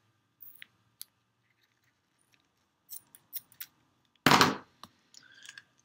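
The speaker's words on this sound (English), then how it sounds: "So here I go, cutting it." Scissors snipping through the rubber neck of a balloon for a homemade barometer: a handful of small, quiet clicking snips, then one louder crunching cut and a short rustle, with no talking.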